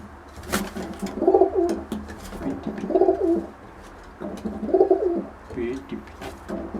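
A tame pigeon in a loft coos three times at a slow, even pace, each burst a soft, rolling call heard close up over a low background murmur.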